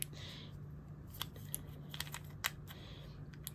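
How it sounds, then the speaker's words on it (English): A few sharp plastic clicks and snaps of a keyboard switch pressed into place, over a low steady hum, spaced irregularly, close and fairly quiet. "And when you press it in, you'll hear it snap."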